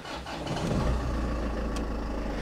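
A BMW E38 with a 2.2 litre Ford engine cranks and fires up, then settles into a steady, loud idle close by, with no talking.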